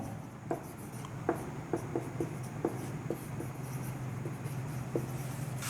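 Marker or chalk strokes on a classroom board while a physics numerical problem is written out: a series of short, quick scratching taps in irregular rhythm, close and fairly soft over a low room hum.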